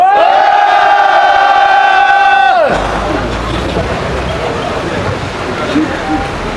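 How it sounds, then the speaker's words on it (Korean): Crowd at an outdoor candlelight rally in Jecheon against railway privatization lets out a loud sustained cheer, following a sustained amplified musical tone that cuts off, then a broad roar of voices and shouting. "우리 힘찬 함성 시작!"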